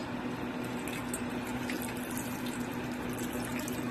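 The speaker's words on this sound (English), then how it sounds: "I'm going to add some water" Water runs steadily into a pot of beef kidney being cooked as a Jamaican brown stew, a close continuous rushing pour with a faint low hum beneath and no voices.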